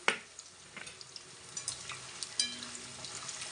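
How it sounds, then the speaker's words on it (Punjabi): Pieces of arbi (taro) fry in hot oil with a steady, soft sizzle, dotted with quick crackles and pops, heard close and without any talking. "ਲੋ ਜੀ ਇਹਨਾਂ ਨੂੰ ਆਪਾਂ ਚੰਗੀ ਤਰ੍ਹਾਂ ਫਰਾਈ ਕਰਾਂਗੇ"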